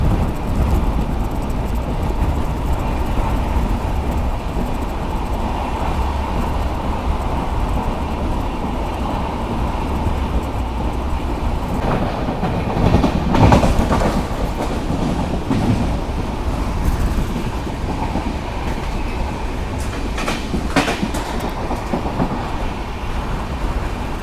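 The Shraddha Sethu SF Express runs past Mandapam station, heard as a continuous loud rumble and rattle of wheels and carriages that holds steady, with no voices.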